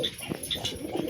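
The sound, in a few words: baby pigeon cooing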